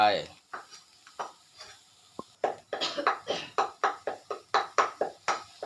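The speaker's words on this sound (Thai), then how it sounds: "มาคั่วเครื่องกันเลยครับผมตั้งไฟนะครับ ใส่กระทะครับผม" A utensil scrapes and stirs sliced lemongrass and galangal dry-roasting in a pan, a quick series of rhythmic strokes up close, about a dozen in steady succession.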